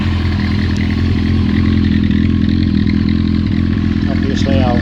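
A Honda CBR900RR FireBlade, the 893cc SC28 Urban Tiger model, idles close by with a steady, loud, even engine rumble throughout.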